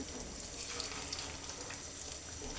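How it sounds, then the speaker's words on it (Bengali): Shrimp fritters frying in oil over low heat in an open pan, producing a steady, gentle sizzle with faint crackles and no voices. "এগুলা ভালোভাবে ভেজে নেব"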